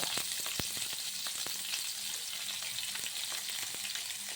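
Onions and curry leaves fry in hot oil in a pan, already seasoned with cardamom and cloves for chicken curry, giving a loud, constant sizzle with sharp crackles and pops throughout.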